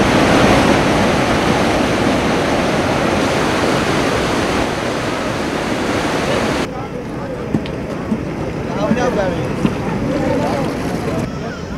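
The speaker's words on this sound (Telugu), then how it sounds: "భారీ వర్షాలకు అనంతపురం జిల్లాలో వాగులు వంకలు పొంగిపొర్లుతున్నాయి." Rain-swollen streams overflowing after heavy rain in Anantapur district, a loud continuous rushing of water that drops abruptly partway through to a quieter flow with faint intermittent sounds.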